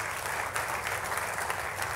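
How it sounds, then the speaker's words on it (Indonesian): A church congregation applauds during a sermon, with steady, moderately loud clapping from many hands that fills the space for about two seconds. "Ayo tepuk tangannya pula yang paling meriah buat Tuhan kita"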